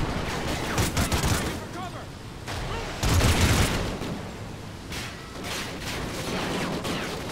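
Rapid gunfire in the Call of Duty: Ghosts video game, dense bursts of shots with booming impacts near 0–1 s and again around 3 s, under game noise and some talk.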